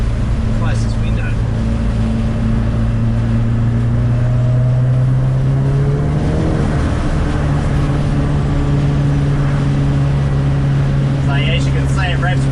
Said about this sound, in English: As you can see, it revs pretty hard.